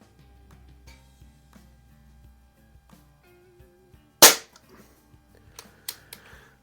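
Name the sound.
Crosman 1701p air pistol firing RWS R10 wadcutter pellets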